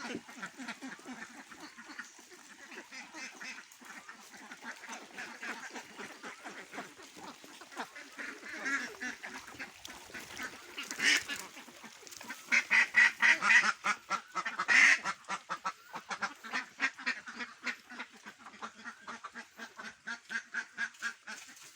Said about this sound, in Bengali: কত সুন্দর করে হাঁসগুলো সব বের হয়ে গেল